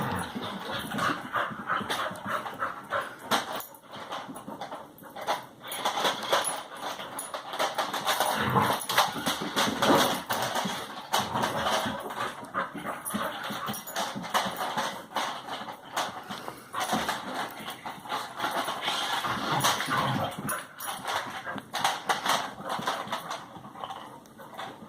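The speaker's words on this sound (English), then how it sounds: "Oh, I hear plastic breaking." A dog chews on a plastic RC car close by, with irregular crunching, clattering and cracking plastic over a continuous busy background for the whole stretch.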